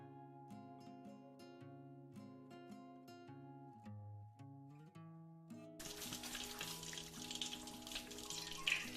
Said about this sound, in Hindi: मीडियम हाई हीट पे चिकन नगेट्स को फ्राई कर लेंगे फॉर अराउंड 5 to 6 मिनट्स।